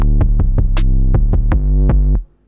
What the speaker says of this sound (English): I can go onto my 808 and I can see I've added distortion and I've added compression.